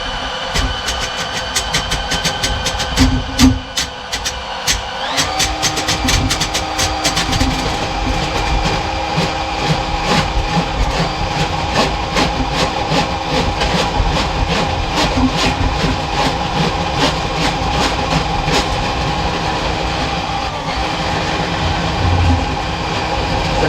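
A drain auger spins its cable down a kitchen sink drain, a loud continuous motor drone laced with rapid rattling clicks and scraping that persists throughout.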